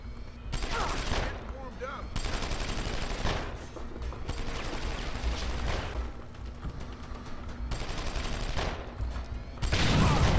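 Sustained bursts of video game gunfire in Deus Ex: Human Revolution, loud and dense, rattling in long volleys separated by brief pauses, with game sounds mixed underneath.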